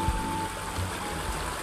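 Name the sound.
babbling stream water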